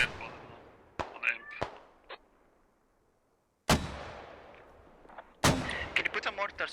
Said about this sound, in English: Oh, these are close mortars.